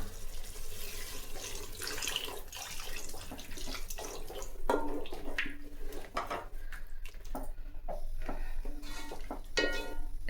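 Coconut milk pours steadily into a boiling pot for several seconds, a continuous watery splashing with faint clinks, no talking.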